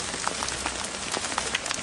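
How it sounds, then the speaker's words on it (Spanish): Hail falls steadily in Atacocha, a dense continuous patter of pellets striking surfaces with scattered sharper impacts, loud and close, with no voices. "pero ahora la granizada es mucho más frecuente"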